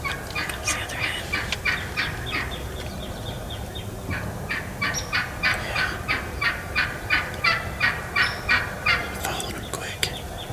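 Wild turkeys on a spring hunt call nearby with rapid gobbling and clucking, coming in rhythmic bursts that grow steadier and louder toward the end over a quiet outdoor background.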